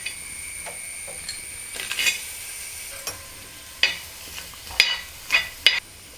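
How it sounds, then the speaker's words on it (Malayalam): Crushed asafoetida pieces fry in coconut oil in a heavy uruli, giving a faint low sizzle broken by scattered sharp pops and scraping stirs that grow more frequent toward the end. "ഇനി നമുക്ക് ഉരുളിയിലേക്ക് ഒരല്പം വെളിച്ചെണ്ണ ഒഴിച്ച് കൊടുക്കാം. എന്നിട്ട് നമ്മുടെ കായ ഒന്ന് മൂപ്പിച്ചെടുക്കണം."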